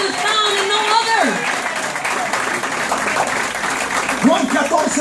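A church congregation claps and cheers in a steady, loud wash of applause through the whole stretch, with a preacher's voice rising over it at the start and again near the end.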